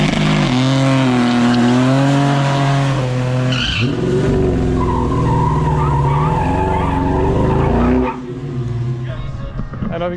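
Turbocharged V6 Buick Grand National at a quarter-mile drag strip, engine droning loud and close with rising revs and tire noise, people talking over it before the sound drops off near the end.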